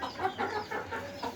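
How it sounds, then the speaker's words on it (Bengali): A rooster kept among household pets gives a series of quiet, rhythmic clucks, about five soft pulses spread across a short moment, heard faintly at a distance. "মোরগ"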